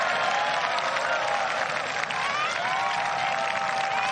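Golf crowd at the 2023 Honda LPGA Thailand applauds a birdie putt on the final round, a steady, fairly loud wash of clapping with faint cheering underneath and no clear talk.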